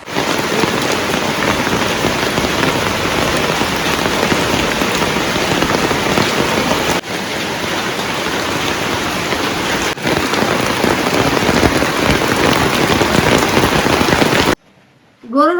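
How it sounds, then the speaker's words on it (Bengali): Heavy rain pours down continuously in a dense, loud hiss close by, with a few brief dropouts and a sudden cut near the end. "বৃষ্টি আইছে ও প্রচুর পরিমাণ"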